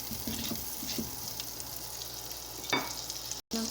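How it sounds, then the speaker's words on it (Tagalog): Butter melts in a hot pan with a constant close sizzle and light crackling pops, a few soft knocks of a utensil, no voices, and a brief cut to silence near the end. "Lagay lang tayo ng butter. Tayo lang natin yan matunaw. Tunawin lang natin yung butter na yan."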